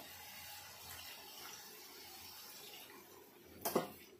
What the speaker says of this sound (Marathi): आता आपण ह्याच्यात पाणी टाकणार आहे.